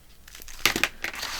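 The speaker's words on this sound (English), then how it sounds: "we're going to cut it off right here" Scissors cut off the edge of a paper envelope, giving a few close, crisp crunching snips in quick succession.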